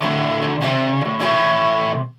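An Orange TH30 valve guitar amp set crunchy and gainy plays loud distorted chords, two sustained strummed chords ringing thick and saturated before fading out near the end, with no voices.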